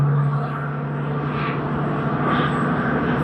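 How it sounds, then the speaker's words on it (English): Lufthansa Boeing 747-8 in retro livery pushing back at a snowy Tokyo Haneda Airport, a steady loud engine drone with a low hum holding throughout, no talking. "747-8 pushing back for the very first time on our live stream, the retro livery of Lufthansa, the Boeing 747-8."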